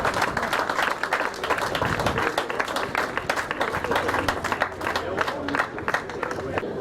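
Crowd applause at the final podium ceremony of the 2023 Tour des Landes cycling race, dense sustained clapping throughout, loud and steady with crowd murmur underneath.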